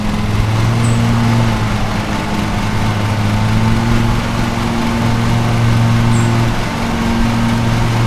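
A lawn mower engine in the Lawn Mowing Simulator video game, set in England, drones at a steady, loud pitch throughout with slight rises and dips in tone and no talking.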